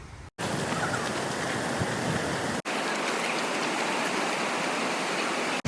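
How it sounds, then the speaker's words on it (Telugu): A waterfall at Cherrapunji, Meghalaya, heard up close: a loud, steady rush of falling water with hiss across the whole range, broken only by a couple of abrupt cuts. "నేనైతే ఈ వాటర్ ఫాల్కి మధ్యలో వచ్చాను"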